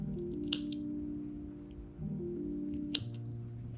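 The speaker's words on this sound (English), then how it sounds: "I'm gonna trim the ends a little bit." Scissors trimming the yarn ends of a crochet bralette bow, two or three quiet snips over a faint steady hum, no voices.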